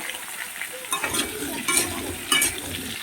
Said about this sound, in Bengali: আলু আর পেঁপেকে একসঙ্গে আমি ভেজে নেবো